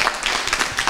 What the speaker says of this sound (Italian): un applauso ai piedi!